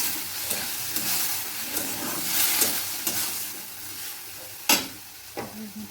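Food being stirred and fried in a home-kitchen pan gives a steady, fairly loud sizzling hiss, with spoon scrapes throughout and a sharp clatter near the end.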